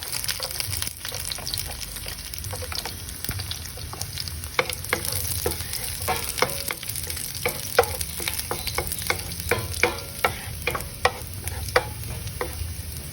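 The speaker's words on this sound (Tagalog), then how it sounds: "I'm gonna saute the garlic" Garlic sautéing in a pan for pork asado, a steady close sizzle with repeated sharp scraping taps from stirring, no voices.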